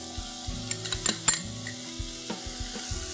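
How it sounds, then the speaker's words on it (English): Two medium onions sautéing quickly in a pan for misal pav, a soft sizzle under repeated clinks and scrapes of a spoon stirring against the metal pan, close and fairly quiet. "about 2 medium sized onions. Saute quickly for about a few seconds"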